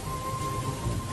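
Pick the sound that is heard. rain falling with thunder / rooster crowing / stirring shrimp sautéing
rain falling with thunder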